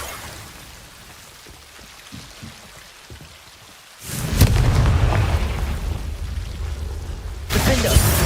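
A Confringo blasting spell in a Hogwarts video game: soft crackling gives way to a loud, sustained roaring burst, then a second blast hits at the very end.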